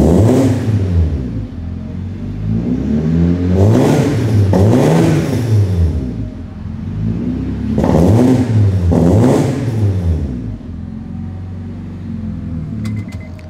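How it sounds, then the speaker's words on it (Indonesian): A modified Honda Civic FD Mugen sedan revs on a cold start, its racing-style engine blipped in several loud, swelling bursts with a rumbling idle between them. "ini dia kalau ibaratkan dia lagi menyala dengan cold start alias mesin yang cukup dingin"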